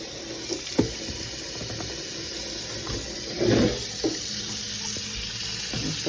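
Kitchen tap water runs into a pot at a sink, a steady close splashing stream with a brief louder gush partway through.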